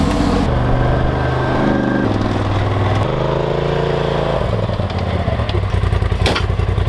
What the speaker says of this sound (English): We'll get my forklift warmed up.